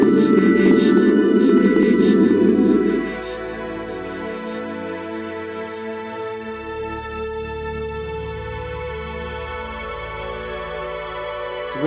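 Sonified spectrum of a dwarf galaxy whose hot gas gives bright emission lines, rendered as a sustained, loud layered drone of steady tones with a dense low band that drops away after about three seconds, leaving a quieter held chord.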